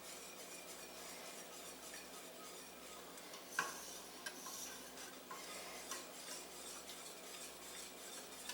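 A whisk stirs through a pan full of Greek lasagna ingredients, a soft continuous scraping and swishing with a few faint metallic taps, quiet and close with no talking.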